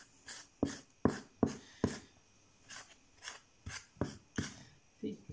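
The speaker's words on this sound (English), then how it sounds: "get your wooden spoon and give it a bit of a stir" A wooden spoon works through pancake batter in a bowl, giving a series of distinct scraping, knocking strokes in an uneven rhythm, close and fairly quiet.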